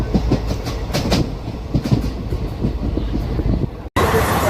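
A passenger train on the Guntur–Macherla line runs at about 110 km/h, its steady rumble and rhythmic clickety-clack of wheels over rail joints loud and continuous from onboard, with a brief cut near the end.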